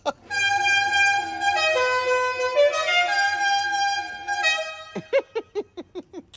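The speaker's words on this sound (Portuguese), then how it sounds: "Vou apertar a buzina de novo." Horn of a restored six-cylinder Chevrolet C10 pickup held in one long, loud, steady blast, then tapped in a quick series of short honks.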